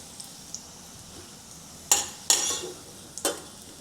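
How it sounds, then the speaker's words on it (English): Potatoes frying in a pan for a Cantonese potato and minced pork stir fry, with a faint steady sizzle and a few bursts of louder spattering and utensil scrapes, near and with no talking. "Fry until both sides turn color."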